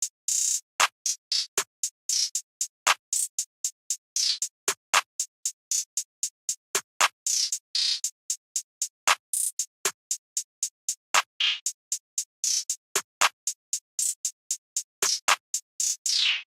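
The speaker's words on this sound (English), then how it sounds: "I laid down a pretty simple snare pattern which sounds like this." A simple trap snare pattern using a Jacob snare sample, with punchy snare hits recurring at steady intervals over a dense, rapid bed of crisp hi-hat ticks and occasional rolls.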